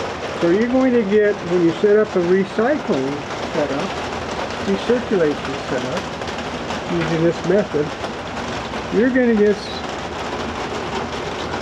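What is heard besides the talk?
heavy rain during a storm outside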